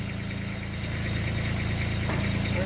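A 2012 Ditch Witch JT5 directional drill runs with its rod spinning, a steady close engine rumble with fine vibration that grows a little louder partway through.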